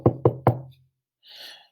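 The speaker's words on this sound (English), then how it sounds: "We heard a knock on the door." Three sharp, evenly spaced knocks on a door ring out close and clear in a quiet room, followed by a brief soft rustle.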